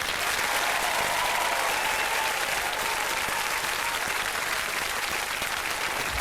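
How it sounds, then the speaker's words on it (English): A television studio audience claps in sustained, even applause, loud and thick throughout with no voices on top. "Give them a round of applause, please."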